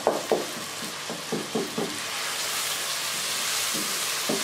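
Tomatoes sizzle in a pan of yogurt fish curry with peas as a spoon stirs them, giving several soft scraping strokes over a steady frying hiss that settles into a continuous sizzle.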